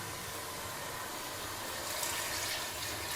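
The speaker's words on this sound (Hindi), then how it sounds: "अब इसमें हम डालेंगे पानी।" Water pours steadily into a cooking pot holding soaked rice for pulao, a continuous splashing rush that swells slightly toward the end, with no voices.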